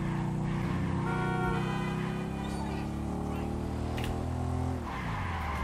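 Motorcycle in GTA 5 sliding with a loud, continuous tire skid over its revving engine, the pitch dropping sharply near the end as the bike settles; steady and close throughout, with no speech.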